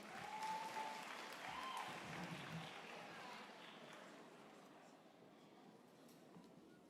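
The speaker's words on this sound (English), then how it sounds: "may we give him a round of applause as he takes the podium" Applause at a university graduation ceremony in Durban as the interim executive dean takes the podium, a broad, steady clapping from a large hall audience that gradually fades.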